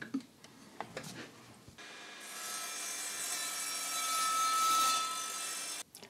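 Evolution mitre saw making a 45 degree bevel test cut: a few handling knocks, then a bright whining blade spins up and slices through the wood for several seconds before stopping abruptly, close and loud, with no talking.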